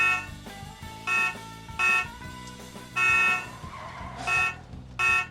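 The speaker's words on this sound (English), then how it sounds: "when we deliver to you, we'll offer our signature honks" A car horn honks repeatedly in short and longer blasts, about six in all, irregularly spaced over a steady background.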